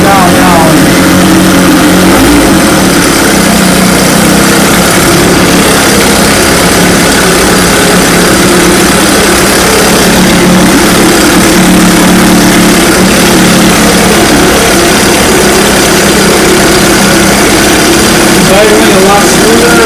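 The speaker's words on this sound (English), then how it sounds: "Idling a lot smoother, at lower RPM." A 1975 Chrysler Sea King 15 hp outboard motor built by Montgomery Ward, recently repaired after overheating, idles smoothly at low RPM with a steady, loud, continuous drone and no break throughout.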